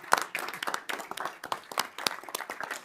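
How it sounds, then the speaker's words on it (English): Applause for a color guard at a village board of trustees meeting in Arlington Heights, Illinois, a close, brisk burst of many hands clapping unevenly for about three seconds. "Let's give them a round of applause."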